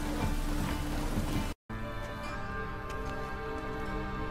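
Steady rain falls in The Witcher 3 video game: a dense, even hiss with light patter, broken by a brief moment of complete silence near the middle.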